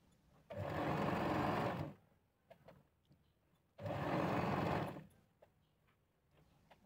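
A sewing machine stitches a dress's elbow sleeve in two steady whirring runs of about a second and a half each, separated by a quiet pause with faint handling clicks, close and loud.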